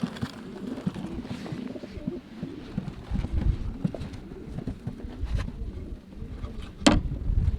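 Breeding racing pigeons cooing nearby in soft low repeated calls, with some rustling and a brief sharp sound near the end.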